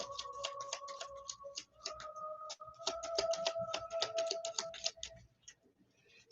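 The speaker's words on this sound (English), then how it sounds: "So I'm going to shuffle up Arwen's skill deck." Skill cards from a fantasy adventure board game deck being shuffled by hand, a dense run of quick crisp riffling clicks close up, with a brief pause partway through and tapering off near the end.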